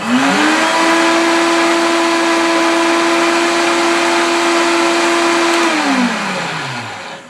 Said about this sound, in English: it looks like to me that the knockoff blender, of course, was louder